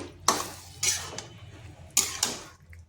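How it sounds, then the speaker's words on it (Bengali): Cooked bottle gourd being mixed with water in a pot, heard as four distinct metallic clinks and scrapes of a spoon against the pot, spaced unevenly over a quiet background. "ভালো করে লাউয়ের সাথে মিশিয়ে নিচ্ছি"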